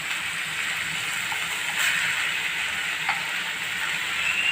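A spoonful of ginger garlic paste hits hot oil in a pan along with onions and broad beans, producing a loud, steady close sizzle with a few faint stirring clicks.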